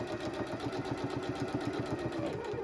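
A sewing machine stitches fabric for a pillow, a fast even mechanical chatter of the needle running steadily at close range, fairly quiet and alone.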